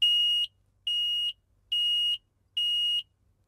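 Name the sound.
carbon monoxide detector alarm beeping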